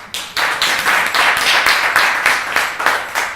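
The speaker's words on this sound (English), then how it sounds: "Round of applause." A small audience claps steadily to vote for a teen wolf armed with metal claws, the hand claps coming in quick, dense, rhythmic bursts for a few seconds at close range.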